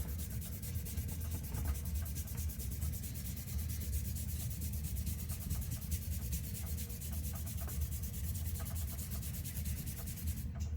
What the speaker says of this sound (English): I use a kneaded rubber eraser and I erase it